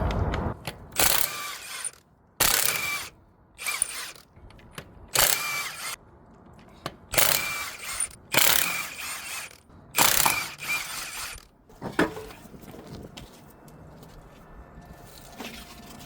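A ratchet with a 21 socket loosening the wheel on a 2006 Nissan Pathfinder: bursts of rapid mechanical clicking in several separate runs with short pauses between them, close and fairly loud, no talking.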